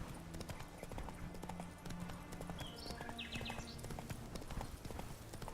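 Roach the horse galloping along a twisty trail in the video game The Witcher 3, quick rhythmic hoofbeats continuing throughout at a steady pace, fairly quiet.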